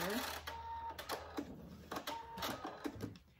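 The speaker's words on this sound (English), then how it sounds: "Then I back stitch there." A sewing machine back stitches a dog collar, quick bursts of mechanical stitching that stop and start in short runs, fairly quiet and close.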